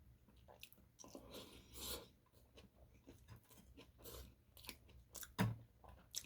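Someone eating eggplant with salted egg, heard as soft, close chewing and occasional crunchy bites, faint and irregular, with no talking.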